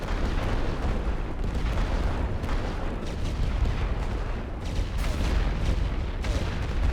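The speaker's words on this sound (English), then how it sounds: "Alle geschützeenheden, vuur." Sustained artillery barrage in the World War I strategy game The Great War: Western Front on the Western Front, a dense continuous rumble of overlapping booms and blasts with no pause, loud and close throughout.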